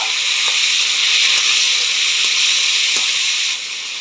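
Fish with a little salt is poured into hot oil and sizzles with a steady, close, hissing crackle that stays even throughout, easing off slightly toward the end.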